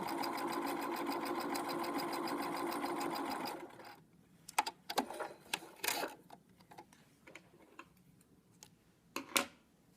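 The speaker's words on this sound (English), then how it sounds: "then you're going to sew down the side all the way to the bottom" A sewing machine runs steadily for about three and a half seconds, stitching fabric down the side of a seam, then stops, leaving scattered clicks and faint handling noises close by.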